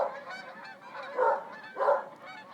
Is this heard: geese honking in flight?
yes